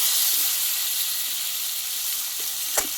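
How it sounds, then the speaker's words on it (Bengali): Ginger, green chili, cumin paste and tomato fry in a pan for a Bengali soybean dish, giving a steady close hiss of sizzling with no talk and one brief clink near the end. "এই মশলাটা একসঙ্গে ভালোভাবে কষিয়ে নেব"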